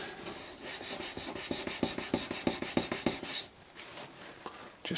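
Wood marker pen being rubbed into caravan woodwork, a run of brisk, rhythmic scrubbing strokes that quicken in the middle and then stop, leaving a quiet, hissy room.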